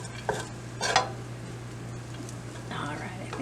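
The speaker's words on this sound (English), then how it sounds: "I'm going to go ahead and saute that ever so slightly in with our sausage" Vegetables being sautéed with sausage in a pan, a low sizzle with a few stirring scrapes and utensil taps, a person speaking over it and a steady hum underneath.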